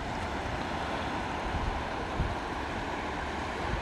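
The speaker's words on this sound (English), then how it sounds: "You got your little tiny waves here." Small waves from a boat wake lap on the water, a steady, broad wash with soft rumble and wind, continuous and fairly close, with no voices.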